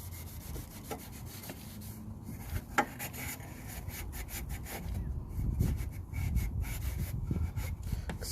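A chrome exhaust tip is scrubbed with a scouring pad, giving close, steady, gritty rubbing strokes that grow louder and rougher toward the end.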